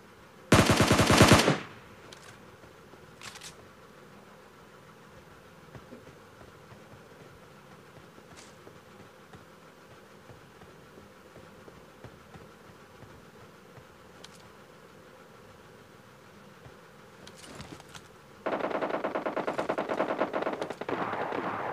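Scar-L rifle and S12 shotgun fire in a battle royale video game: a loud, rapid burst at the start, distant faint shots through a long quiet stretch, then steady sustained automatic fire at the end.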